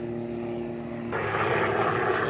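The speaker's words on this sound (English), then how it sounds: "As you can see, helicopters fly here all the time." Helicopter engine noise that swells partway through, a steady droning roar growing louder as it passes overhead.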